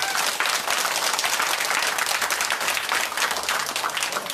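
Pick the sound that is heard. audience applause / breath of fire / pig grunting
audience applause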